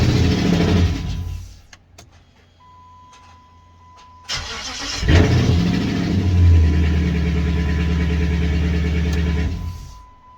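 An AWD Hemi V8 is bumped with the starter to prime the transmission pump, several short cranking bursts followed by a catch into a loud, steady idle rumble, close and alone.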